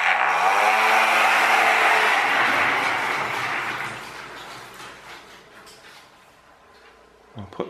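A fan-driven RC car with a brushed motor whines loudly at close range with rising harmonic tones, then fades over several seconds into quieter background, ending with a brief clatter.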